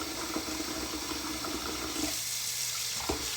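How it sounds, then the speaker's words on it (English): Cold tap water runs steadily over raw pork chops at a kitchen sink, a continuous close splashing hiss with small clatters near the end. "We'll rinse them off with some cold water."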